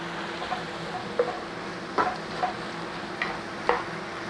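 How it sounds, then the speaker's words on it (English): Carrots and celery cooking in a pan, giving a soft steady sizzle with occasional stirring scrapes and light clinks spread across the clip, no talking. "So all you're doing is cooking until the celery and carrots are soft"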